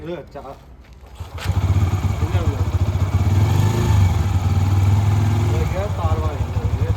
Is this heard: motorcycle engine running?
yes